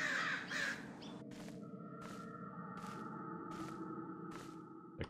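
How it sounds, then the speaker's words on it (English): Crows caw repeatedly in a video game, several harsh evenly spaced calls over a dense, steady ambient game soundscape, with no talk. "Oh my god, how many crows do you have?"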